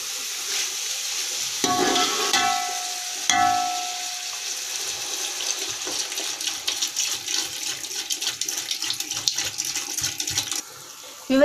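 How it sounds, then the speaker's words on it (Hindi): About a litre of water poured into a cooking pot of chickpeas for a rice pulao, a splashing rush of pouring with hissing sizzle, then softer bubbling and stirring clinks, close and fairly loud, no talk. "मैं इसमें तकरीबन 1 लीटर के करीब पानी शामिल कर रही हूँ।"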